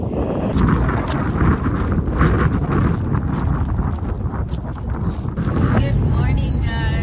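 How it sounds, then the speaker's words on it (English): Strong wind buffets an outdoor microphone beside a truck, a steady loud rumbling roar with gusty swells, with people talking faintly under it. "So windy out here"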